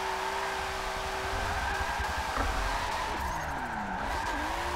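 A drift car in Forza Motorsport 7 slides with continuous tire squeal over a steady engine drone, pitch sweeping as it changes angle.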